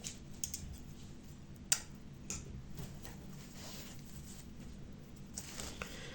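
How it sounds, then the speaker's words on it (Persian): Scissors snip the yarn after a knitted bag is finished. Faint, close clicks, with one sharper snip among soft ticks and rustles in a quiet room. "اینجا آخرین پایه رو که بافتین نخ رو قیچی کنین"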